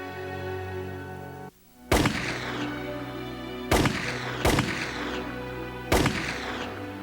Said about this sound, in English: leader Porrick Pierce and 2 others were shot by a British firing squad.